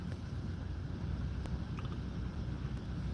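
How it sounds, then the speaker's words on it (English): Light, steady rain falling outdoors, a soft continuous wash of patter with a few faint ticks and no voices. "Light rain coming down now. It's coming down pretty steady."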